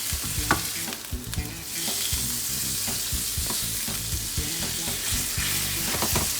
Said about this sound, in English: Just keep mixing it with your spatula, or if you have tongs, you can use tongs.